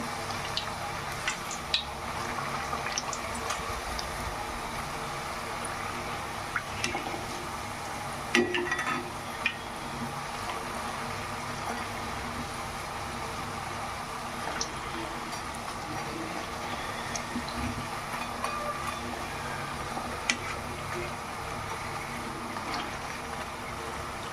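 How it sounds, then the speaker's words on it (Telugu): Sesame chekkalu, crispy rice-flour snacks, frying in hot oil, a steady dense sizzle and bubbling throughout, with occasional clinks and stirring knocks close by. "ఇంకా అలా నూనెలో వేసాక మళ్ళీ తిప్పుకొని బాగా ఫ్రై చేసుకుందాం"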